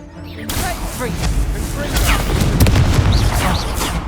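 Incendio fire spell cast in Hogwarts Legacy, a loud whooshing burst that swells and rumbles under dense combat noise, with deep booming thuds and a busy game soundscape throughout.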